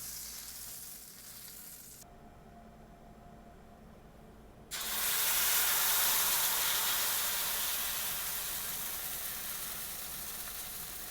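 Pancake batter frying in a carbon steel pan with avocado oil and butter, a steady, close sizzle that jumps louder partway through and then holds, slowly easing off.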